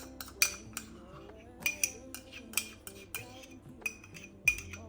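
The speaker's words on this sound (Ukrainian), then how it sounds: "Перемішуємо зараз до однорідності" Utensil stirring chocolate mousse mixture with half-melted butter in a bowl, giving irregular clinks and scrapes against the dish, close and fairly quiet.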